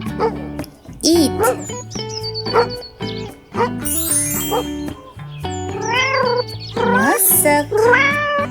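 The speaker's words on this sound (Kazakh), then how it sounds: "Мысок." A cat meows several times, with drawn-out rising and falling cries that grow louder toward the end, heard over steady background music.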